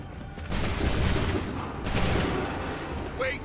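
Musket volley in Assassin's Creed 3: a broad crackling burst of many muskets firing at once, then a second volley about a second and a half later, loud and close, trailing into rumbling echo.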